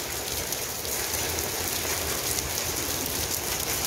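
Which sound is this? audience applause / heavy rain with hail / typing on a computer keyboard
heavy rain with hail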